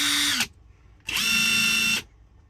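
Two bursts of a cordless Hercules impact wrench's high whine on speed two, about a second each, separated by a short quiet gap, running steadily, close and loud.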